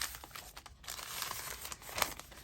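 Paper being folded over and tucked into a pocket of an Italian Emblem journal, with soft close crinkling and rustling in short bursts and one sharper crackle near the end, no talking.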